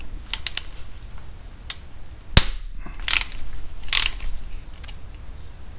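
A wrench works bolts loose on the cam tensioner of a 2006 Harley-Davidson Ultra Classic: a few scattered ratcheting clicks, then one sharp loud crack as a bolt breaks free, followed by brief metallic rasps, close up with no talking.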